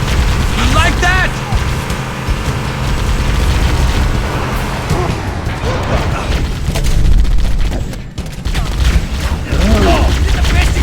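A Halo battle on easy difficulty rages with dense, loud gunfire and booming explosions against Covenant forces, continuous and close, while voices shout over the combat.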